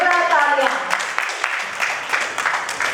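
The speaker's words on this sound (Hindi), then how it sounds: "एक बार जोरदार तालियों के साथ स्वागत करते हैं" An audience at an awards ceremony bursts into applause, the clapping rising right after a brief voice at the start and continuing as a dense patter for the rest of the clip.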